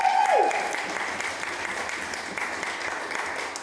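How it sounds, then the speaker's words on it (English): Wedding guests applaud at a reception during the speeches, a steady wash of clapping after a brief tone at the start, slowly easing off across the few seconds. "everyone give him a round of applause"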